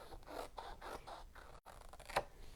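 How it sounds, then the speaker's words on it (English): Scissors trim a rub-on transfer craft piece in a series of quiet, rhythmic snipping cuts, about six close crisp snips with a brief pause and one sharper final cut. "I'm trimming it up more, guys, hang on."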